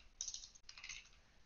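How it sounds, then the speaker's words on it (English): Quick keystrokes on a computer keyboard as a command is entered in Windows CMD, a short clustered burst of light clicks followed by a second run, close and fairly quiet. "Type the following commands and then press Enter after each command."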